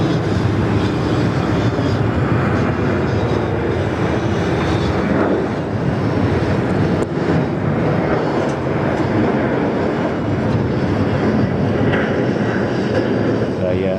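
A Finnair airliner passes at Sydney Airport, its jet engine roar rising into a broad, steady rumble that stays loud and continuous throughout, with a voice faintly underneath.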